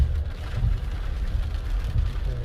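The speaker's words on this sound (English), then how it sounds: "It started raining quite a lot now. Nice rain, in fact." Heavy rain drums steadily on a car during a road trip from Kolkata to Tajpur, a dense low rumble of rain and road noise with no talk.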